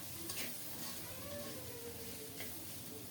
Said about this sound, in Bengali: ঢেকে ঢেকে নেড়ে দিয়ে সুন্দর মতো পেঁয়াজ কলি আর আলু ভাজা করে নিয়েছি